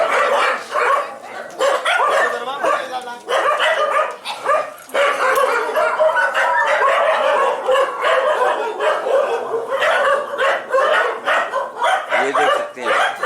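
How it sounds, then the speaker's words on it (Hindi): Several dogs of mixed breeds bark, yip and whimper at a shelter, close and loud in overlapping bursts that run throughout with little pause. "ये देख सकते हैं सभी नस्ल के डॉग्स हैं"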